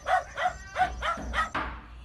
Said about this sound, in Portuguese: Se você disse que era um cachorro, você acertou.